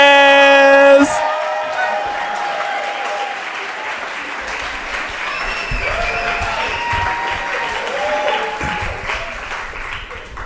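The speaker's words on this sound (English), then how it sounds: "People are already applauding for him." A crowd at a live storytelling show breaks into sustained applause with scattered cheers and whoops, following a brief musical sting; the clapping stays dense and loud throughout, with faint voices mixed underneath.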